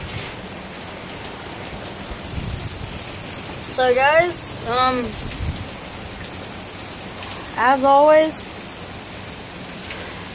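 Heavy rain pours down steadily during Hurricane Harvey, a dense constant hiss throughout, with a person talking briefly over it twice.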